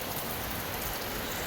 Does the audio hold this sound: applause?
no